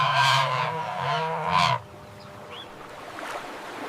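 A flamingo gives three loud, nasal, goose-like honks in quick succession, then falls quiet against faint background noise.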